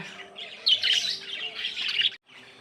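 Pet budgerigars, lovebirds and conures chirp and squawk together in a busy, steady chorus of close tweets, pausing briefly near the end.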